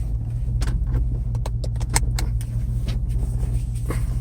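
Interior of a supercharged 2005 Chevrolet SSR on the move, a steady low engine drone and road rumble with a few faint rattles and clicks over the top, no talking.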